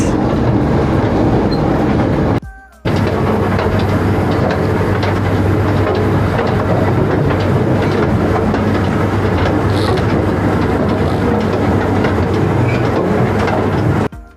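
The Bongbong forest train at Taipingshan in Yilan County, Taiwan rumbles loudly and continuously along its track, a dense rolling rattle with steady low drone, briefly dipping once then resuming until the end.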